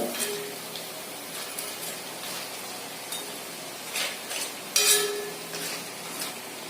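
Pakkavada, a Kerala-style fried snack, bubbling in hot oil with a steady soft sizzle, broken by occasional louder crackles and light metallic clinks of a utensil stirring in the pan.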